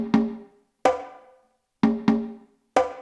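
Five separate resonant conga drum hits in an uneven pattern, each ringing briefly before fading, with silence in between.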